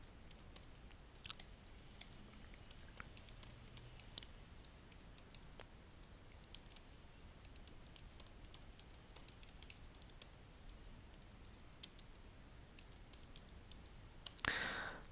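Code being typed on a computer keyboard during a Swift programming session, rendered as quiet, irregular key clicks and taps that run continuously at a steady pace without any voice.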